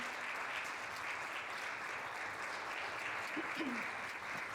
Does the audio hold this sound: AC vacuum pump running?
no